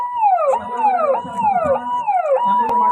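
Ambulance siren wailing loud and close in a repeating falling sweep, about four cycles in a few seconds, with a brief sharp knock near the end and no talk.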